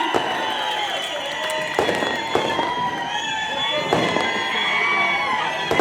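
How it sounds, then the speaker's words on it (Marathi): A large crowd at a public political rally claps and cheers in a continuous roar of applause, with shouts and a few sharp bangs rising through it. "दोन्ही हात वरती, जोरदार टाळी"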